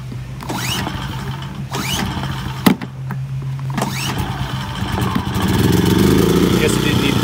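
A Rainier R2200i inverter generator is started on choke and settles into running, with a few sharp mechanical knocks and pulls before a steady engine drone builds and grows louder toward the end, while a person talks over it.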